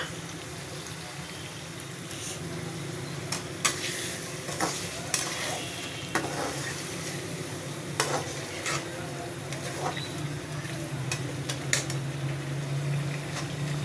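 Yogurt stirred into spiced chicken sizzling in a pan, a steady frying hiss with scattered scrapes and clinks of a utensil against the pan, close and moderately loud, with no talking.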